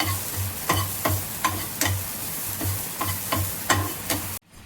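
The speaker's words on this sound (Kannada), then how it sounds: "ತೆಂಗಿನಕಾಯಿ ಹುರಿದು ರೆಡಿ ಆಗಿದೆ." Grated coconut roasting in a pan for ridge gourd chutney, a soft steady sizzle broken by repeated scraping strokes of a spatula at a regular rhythm, close by, ending abruptly.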